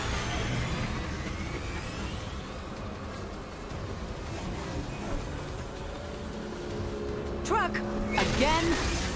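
A taxi car driving in the video game Mass Effect 2, a steady engine drone and road rumble throughout, with a few brief electronic chirps near the end.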